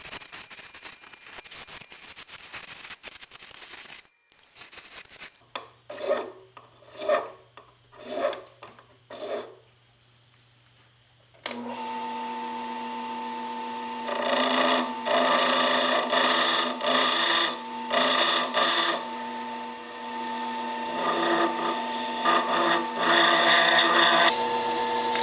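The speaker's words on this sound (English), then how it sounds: "So I'm going to put this thing back on the lathe." Wood spins on a lathe while being shaped into a woodworking awl, giving close rasping and rubbing in short bursts at first, then a continuous loud whir with a steady motor hum.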